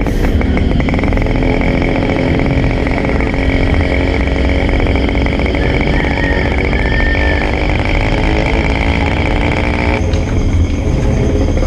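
A motorcycle engine runs steadily and loudly throughout, with a rough, continuous drone and no voices.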